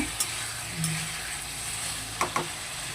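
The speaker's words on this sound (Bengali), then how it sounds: "দিয়ে আবার একটু ভালো করে নেড়ে চেড়ে নেব।" Frying spice paste for a cauliflower and rohu fish curry, loosened with a splash of water, sizzles steadily while a spoon scrapes the pan in a few sharp, close strokes.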